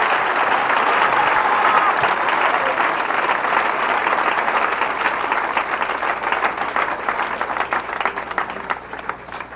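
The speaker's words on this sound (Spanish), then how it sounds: "Denle un aplauso a Dios con todo su corazón" A church congregation applauds together, a loud, dense, sustained wash of clapping that carries on for nearly ten seconds and thins slightly toward the end.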